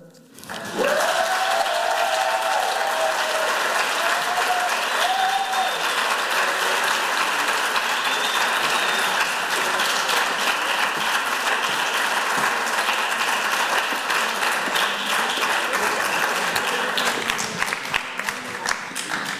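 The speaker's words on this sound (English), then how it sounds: "the round of applause" Sustained applause from a conference audience after a student group's final project presentation, a dense steady wash of many hands clapping that runs for nearly twenty seconds with a few faint voices mixed in.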